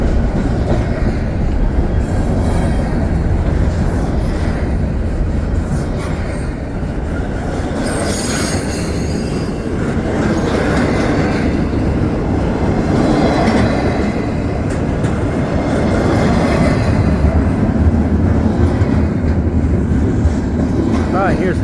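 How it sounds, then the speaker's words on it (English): A long CPKC intermodal freight train rumbles steadily past close by at night in winter at Dorval, with continuous wheel noise, rattling cars and occasional high metallic squeals. "Didn't have to wait that long for this train to come."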